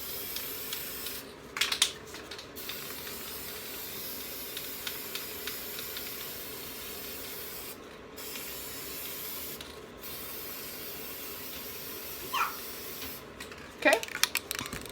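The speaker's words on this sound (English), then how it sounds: "Now that we're done spraying" A few short bursts of matte finish aerosol spray hiss against a steady background noise, spaced out over the clip.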